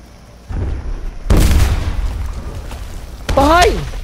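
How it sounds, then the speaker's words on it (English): A grenade explodes in the video game Cuisine Royale, a loud boom with a long rumbling tail, followed by a shout. "I have a grenade!"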